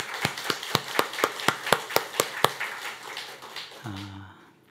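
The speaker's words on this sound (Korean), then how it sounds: "우리 미디어부에도 한번 감사의 박수 한번 합시다" A church congregation marking its 11th anniversary claps in unison for the media team, about a dozen sharp, evenly spaced beats. A brief low sustained tone follows as the room goes quiet.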